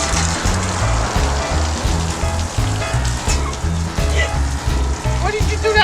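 A hose sprays water over a Cadillac during a wash, a dense, steady splashing hiss with a rhythmic low throbbing underneath, loud and close throughout.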